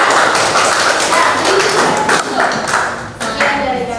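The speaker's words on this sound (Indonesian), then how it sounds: "Tepuk tangan buat kamu juga." Hands clapping together for a student at an online teacher-training session, a dense patter of claps close by, steady for a few seconds.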